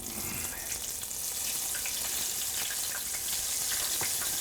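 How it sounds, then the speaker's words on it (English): Buttermilk-dipped, seasoned chicken pieces fry in a pan of hot oil, giving a dense, continuous sizzle and crackle with small pops scattered throughout, close and steady from start to finish. "let's fry this chicken"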